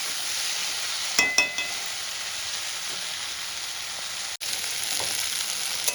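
Fish with potato and eggplant frying in a pan makes a loud, even sizzle, with a few clinks of a utensil early on and a brief break near the end, no talking.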